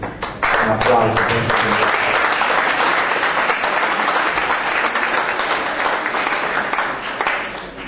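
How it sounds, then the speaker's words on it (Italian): Loud, sustained applause from an audience at an Italian volleyball awards celebration, a thick wash of clapping that swells early and carries on steadily for several seconds, with a few crowd voices mixed in. "Un applauso."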